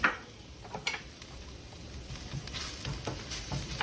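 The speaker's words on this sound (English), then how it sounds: "I'm going to add those thinly sliced shallots and get them just translucent" Thinly sliced shallots frying in olive oil in a pan give a steady soft sizzle with faint crackles and a few light clinks, moderately close, with no talking.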